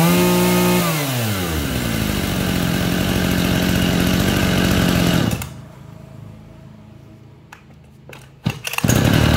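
Shindaiwa chainsaw engine running up close, loud and buzzing at high revs, then dropping back to a quieter idle before a few sharp blips of throttle near the end; no voices.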